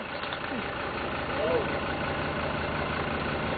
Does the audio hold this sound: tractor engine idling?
yes